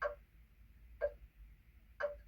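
A white noise sound machine plays a ticking clock track: three crisp, evenly spaced ticks about a second apart, fairly close, over a faint low hum.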